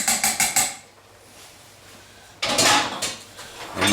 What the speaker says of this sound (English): Crush your potato slightly with your potato crusher